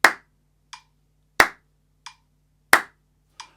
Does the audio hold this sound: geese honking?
no